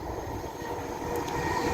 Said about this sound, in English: the next train to be giving it the beans is a Transpennine 802 from Liverpool Lime Street to Newcastle